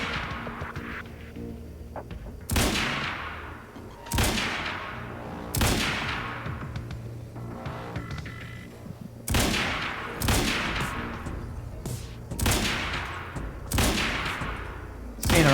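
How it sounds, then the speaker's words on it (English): Rifle fire in the video game Quantum Break: about eight loud, sharp shots at irregular intervals, some in quick pairs, each with a short ringing decay over a steady low background. "We're gonna toggle over to our rifle."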